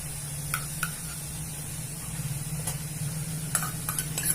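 Chopped onions fry in a pan as a coarse paste of roasted green chillies (thecha) goes in, giving a steady close sizzle with a few faint ticks and clinks over the hiss.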